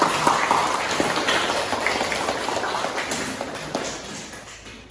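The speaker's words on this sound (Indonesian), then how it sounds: "Jadi tepuk tangan untuk kita semua" A classroom of junior high students claps together after finishing a group project, a dense steady patter of applause that holds fairly level and slowly fades toward the end.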